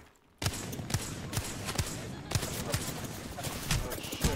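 Gunfire in the Apex Legends battle royale game, with repeated sharp shots and bursts recurring through a busy, dense mix of game sound effects, up close and fairly loud, mostly without talk.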